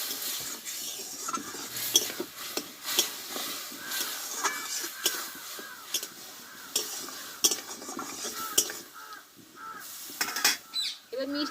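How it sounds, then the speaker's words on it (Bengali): A ground mustard and poppy seed paste with a little water, frying in a pan and stirred with a spatula, heard as busy irregular scraping and knocking over a soft sizzle, close by. "একটু অল্প জল দিয়ে দেবো আমি মশলাটা কষে নেবো"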